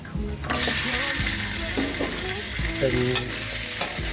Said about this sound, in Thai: ก็ใส่หมูลงไปผัด